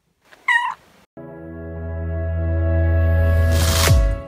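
A pet cat gives one short, clear meow up close, followed by a long steady electronic hum that swells and ends in a bright sweeping burst.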